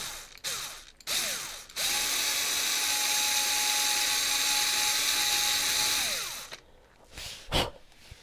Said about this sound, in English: you're going to drill right through it